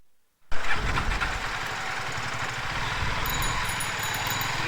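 A motorcycle engine starts after the fuel pump primes: a sudden catch from silence, then a steady, close, rumbling idle that holds evenly.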